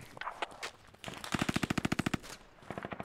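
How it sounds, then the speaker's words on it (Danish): Gunfire in the video game Squad. A rapid automatic burst of about fifteen evenly spaced shots rings out mid-distance, with scattered single cracks before it and a few shorter shots after. "Der skyder nogen over."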